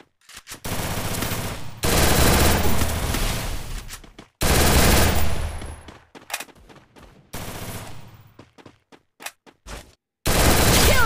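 M60 machine gun fire in a mobile battle-royale shooter, loud sustained automatic bursts separated by short gaps, with a few single shots between and a final burst at the end.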